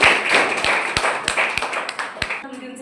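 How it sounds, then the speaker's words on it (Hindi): An audience claps for a teacher at a coaching event, a string of evenly spaced sharp claps in a steady rhythm, with a voice speaking over them. "सभी से अनुरोध है सर के लिए एक बार जोरदार ताली"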